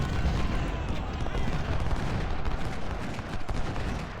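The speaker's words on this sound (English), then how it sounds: "There now the 24 or the 12 pounders got in some canister fire." Cannon canister fire rumbles through a Civil War battle video game, a dense, continuous roar of overlapping gunfire and booms that stays loud throughout, with no break.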